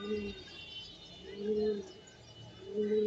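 Racing pigeons coo nearby in three soft, throaty bursts, evenly spaced with brief pauses between them.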